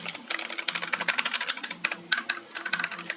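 Quick, steady clatter of keys being typed on an Anne Pro 2 keyboard, close and crisp, with rapid uneven clicks running continuously.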